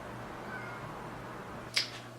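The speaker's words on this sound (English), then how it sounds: "And you can hear my cat." A house cat gives a single short meow near the end, fairly faint over a quiet room hum, with no talking.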